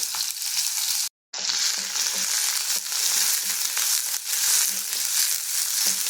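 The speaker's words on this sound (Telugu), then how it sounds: "ఉల్లిపాయ ముక్కలు కూడా వేసేసి కొంచెం సేపు వేగనిద్దాము" Onion pieces fry in oil with cumin, green chillies and curry leaves for a capsicum paneer curry, producing a loud, steady sizzle with occasional stirring taps and a short silent gap near the start; no voices.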